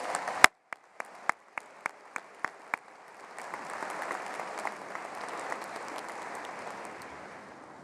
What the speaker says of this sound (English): How about a round of applause for everyone who's helped support us?